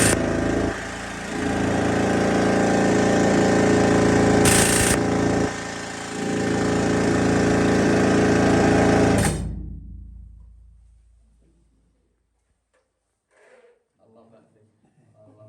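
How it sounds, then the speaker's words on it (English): A loud, continuous pneumatic air leg rock drill in the Central Deborah Gold Mine, Bendigo, hammers for about nine seconds with a brief dip partway through, then cuts off into quiet. "an air leg drill can drill a 2 metre hole in 5 to 10 minutes"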